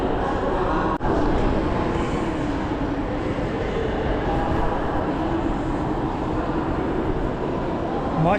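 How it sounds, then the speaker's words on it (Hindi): A train rumbles steadily at Rabat Agdal railway station in Morocco on the run from Casablanca, a loud, continuous roar of rail noise heard from inside or close by. "मैं अभी पहुंच गया हूँ रबात के अगदल स्टेशन पर"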